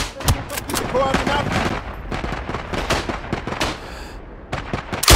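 Rapid bursts of gunfire from the World War I mountain-warfare game Isonzo, a dense crackle of rifle and machine-gun shots with distant artillery thumps, loud and continuous for several seconds.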